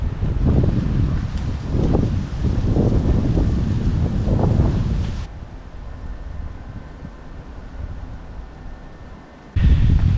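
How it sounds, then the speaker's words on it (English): Strong winter wind on a cold, exposed stretch along the Appalachian Trail near Shenandoah, roaring and buffeting the microphone in loud gusts that ease into a quieter steady blow, then surge back at the end. "It is still very windy"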